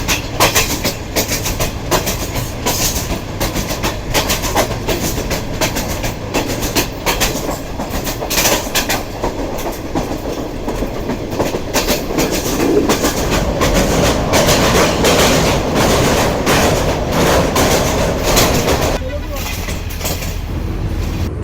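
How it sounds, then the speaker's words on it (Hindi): A special Mohenjo Daro safari train at Dig Road junction, a loud steady rumble of rolling rail cars with rhythmic clickety-clack, swelling midway and easing toward the end, with voices audible over it. "ट्रेन हमारी ये खड़ी हुई है, स्पेशल मुंजदड़ो सफारी ट्रेन।"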